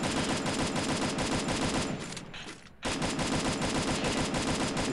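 Rapid automatic gunfire from the Free Fire battle royale video game rattles continuously and loudly, breaking off briefly for about a second before the dense burst resumes.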